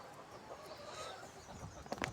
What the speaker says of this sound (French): Voilà la poule.